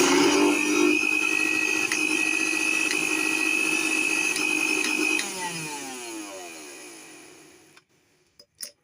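A mixer grinder whirs loudly with a steady high motor whine, then cuts off and winds down over a few seconds before brief clicks as it begins to restart.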